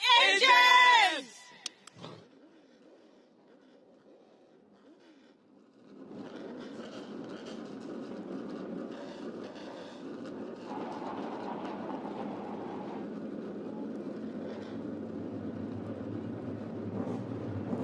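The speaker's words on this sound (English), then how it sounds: "to be able to hear the engines fire up" Race car engines fire up at a CARS Tour race at Southern National Motorsports Park, a broad sustained roar rising after a voiced command and holding steady at a distance for over ten seconds.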